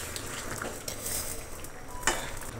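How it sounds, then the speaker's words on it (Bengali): Fish pieces are stirred into a simmering curry in a pot, with soft scraping and sizzling, light clinks of a utensil and one sharper knock against the metal. "মাছগুলো দিয়ে একটু নাড়াচাড়া করে নেব।"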